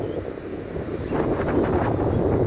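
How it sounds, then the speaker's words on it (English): Strong wind on a beach at Corralejo, Fuerteventura, buffets the microphone in a steady, loud roar that swells slightly toward the end. "Bloody windy at last."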